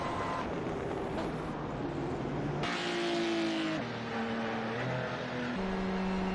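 Race cars screaming around Laguna Seca in a packed field during a racing league round, engines loud and continuous with pitch shifting as cars change gears and pass close by.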